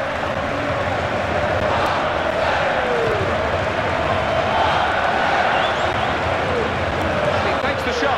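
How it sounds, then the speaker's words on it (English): Stadium crowd in a FIFA football video game giving steady, loud applause and murmuring for a back-heel play in a match against Marseille, a dense continuous roar throughout. "I think even the opposition are applauding that one, that back heel."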